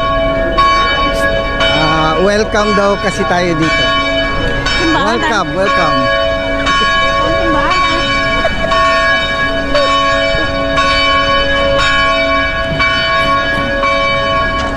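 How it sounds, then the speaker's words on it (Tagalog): Bells ring steadily with long sustained tones throughout, while people talk and voices rise over them. "Kasalukuyan nating maririnig ang bell."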